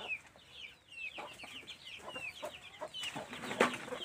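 A hen of Jeki-crossbred chickens clucks in a series of short, close calls, with other fowl and birds chirping nearby around her.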